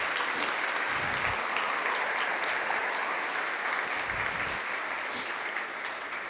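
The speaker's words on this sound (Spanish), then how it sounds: "Dale un aplauso al Señor por ello." Church congregation applauding, a dense steady roar of many hands clapping together, loud and continuous with no talk over it.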